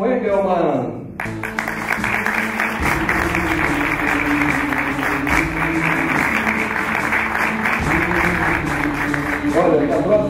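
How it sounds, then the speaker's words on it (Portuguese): Sustained applause from an audience greets an award recipient at a sustainability trophy ceremony, a dense steady clapping that holds loud for several seconds after a brief voice at the start. "Tem uma salva de palmas mais uma vez"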